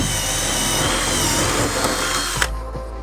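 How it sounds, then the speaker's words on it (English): A power drill bores a hole through the body of a camper van during a bunk slider window install, running steadily and loudly for most of the clip before cutting off near the end. "Not the actual act of drilling the hole, but just the fact that I'm putting holes in the van."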